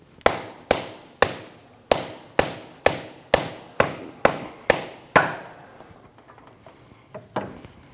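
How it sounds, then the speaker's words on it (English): A rubber mallet taps a new CV axle into the transmission of a 2013-2019 Ford Escape 1.5L L4. About ten sharp, evenly spaced knocks ring out up close, then give way to faint clatter. "tap it with a rubber mallet and lock it in"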